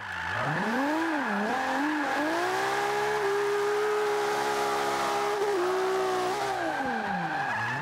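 Sustained tire squeal from a Nissan 240SX (RPS13) drifting in the racing game Forza 5, a loud tonal screech that wavers up and down in pitch, then holds steady over a continuous engine drone, with no talking.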